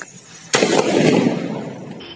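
A Desi VIP automatic shower firecracker ignites with a sudden loud whoosh after half a second, then keeps up a dense crackling, fizzing burn that slowly fades, with no voices.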